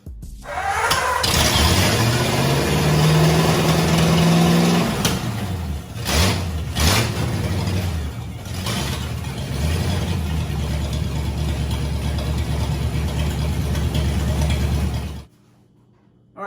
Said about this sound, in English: We built the carburetor, put it on, fired right up. Sounded pretty mean, sounded pretty good.